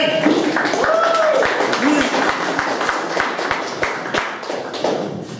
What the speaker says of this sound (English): Let's have a big hand of applause for Dr. Maury Bank.